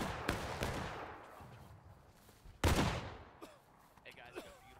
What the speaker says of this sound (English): Stand and shoot, kneel to reload.